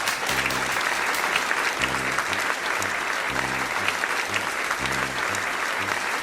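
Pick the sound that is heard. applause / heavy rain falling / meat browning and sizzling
applause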